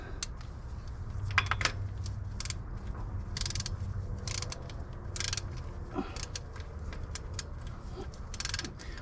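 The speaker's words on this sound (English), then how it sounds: "Putting the drain plug back in. Tightening it down nice and firm." A socket ratchet tightens the drain plug on a Mendeola 2D drive, giving quick bursts of close, sharp clicking with short pauses between strokes.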